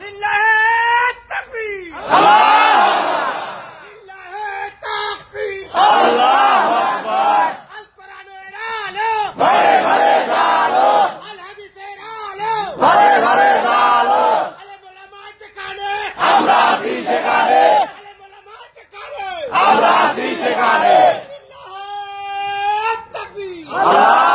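A crowd loudly shouts the takbir chant in repeated call-and-response rounds, a leader's voice giving each call and many voices roaring back together, with the cycle repeating several times.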